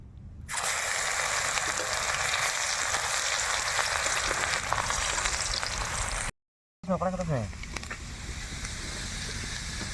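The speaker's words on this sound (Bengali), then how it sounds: "এখন মাংস ভাজার তেলেই ফোড়নে দেবো কুচনো আদা আর কুচনো রসুন" Loud, steady sizzling of chopped ginger and garlic frying in hot oil fills the clip, broken by a brief silent gap before the crackling resumes.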